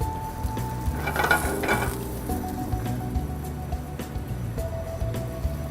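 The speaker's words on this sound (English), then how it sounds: "We saute the red cabbage, and my beautiful potato." Red cabbage and potato sauteing in butter in a pan, giving a soft, steady sizzle and light patter that stays faint and even throughout, with no voices.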